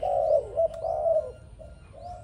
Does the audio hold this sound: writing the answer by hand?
no